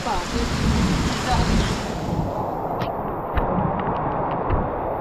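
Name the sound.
heavy rain with thunder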